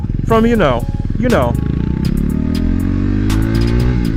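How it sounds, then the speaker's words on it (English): A motorcycle with a stock exhaust runs with a low, steady engine drone, close by and moderately loud, while a rider talks over it for most of the stretch. "listen to how the bike sounds right now. It sounds great."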